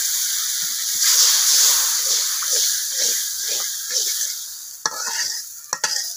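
Fish curry with potato and eggplant bubbling and sizzling in a pot on a clay stove, with rhythmic stirring scrapes and a few sharp clinks near the end, close and without talking.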